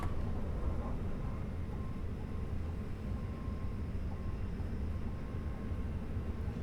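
An ICE4 high-speed train accelerating in Train Simulator 2021 on the Frankfurt to Mannheim route, a steady loud cab rumble and motor drone that holds evenly throughout with no talk over it.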